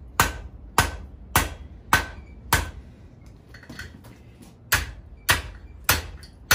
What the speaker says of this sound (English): Now we're going to hammer in the direction of the twist.